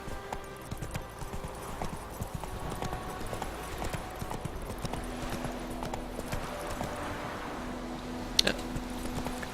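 Roach the horse gallops in The Witcher 3, a steady rapid clip-clop of hooves running throughout, with the odd snort or whinny and game ambience layered underneath.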